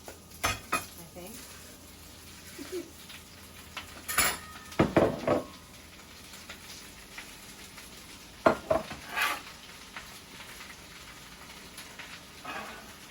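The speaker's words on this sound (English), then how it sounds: "baby spinach, kale, asparagus, tomatoes, and shallots. And I'm going to be putting those into the skillet" Baby spinach, kale, asparagus, tomatoes and shallots sizzle in a skillet, with a steady frying hiss broken by the clatter of a utensil stirring and scraping against the pan.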